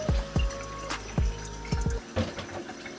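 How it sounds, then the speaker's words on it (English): Water pours and splashes over russet potatoes being rinsed, with several thuds and knocks of the potatoes in the stream, close and fairly loud with no talk. "we're just gonna give them a clean, nice rinse off like so"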